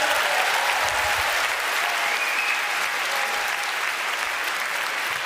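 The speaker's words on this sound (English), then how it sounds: "A big round of applause for the Toronto Police Services this evening." Sustained, dense applause from a large audience at a public debate hall, steady and loud throughout with no talk over it.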